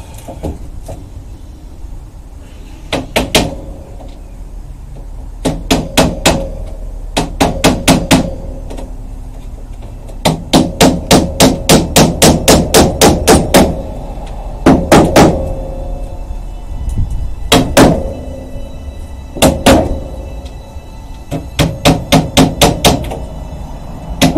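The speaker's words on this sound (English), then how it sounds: "And I'll hammer in some extras." Nails are hammered into a 1900 Jewett upright piano: loud, close, rapid strings of sharp metallic taps in repeated bursts, separated by short pauses over a low background hum.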